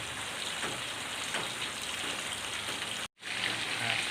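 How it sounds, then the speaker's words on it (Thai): Steady rain pouring down outside a house in a continuous hiss, close by, with a brief dropout near the end before the downpour resumes. "โอเคครับนี่คือฝน"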